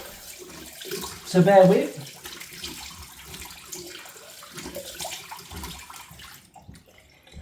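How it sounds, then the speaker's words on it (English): A bathroom tap runs while a face is rinsed with cold water during a shave, a brief louder burst of splashing water amid quieter running water, with someone talking over it. "I'm going to rinse the face with cold water."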